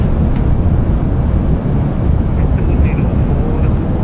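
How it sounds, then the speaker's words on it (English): A Boeing 787-8 in a flight simulator roars steadily with thrust reversers deployed during its landing rollout at Manchester, a dense, constant engine rush with no breaks. "Reversers are out. Decelerating."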